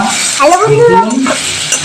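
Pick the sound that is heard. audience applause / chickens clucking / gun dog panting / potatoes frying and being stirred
potatoes frying and being stirred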